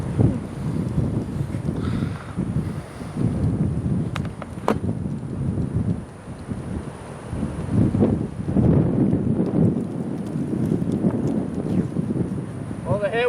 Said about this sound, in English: Well, the headwind's back